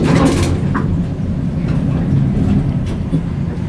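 A Montgomery A-Series traction elevator car in motion, a loud continuous low rumble and rattling hum with brief scraping noises, steady throughout.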